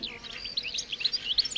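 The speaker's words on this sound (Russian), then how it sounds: "А вот и еще один известный певец — щегол." A goldfinch sings quiet, twittering song with quick, tinkling high notes, running continuously over a faint hiss.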